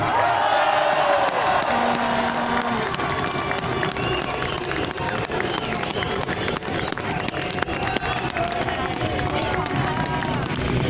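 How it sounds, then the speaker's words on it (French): A large outdoor crowd at the March for Life rally cheers and claps in a dense, continuous roar, with a voice speaking over it throughout. "Je vous demande d'applaudir Philippe de Villiers."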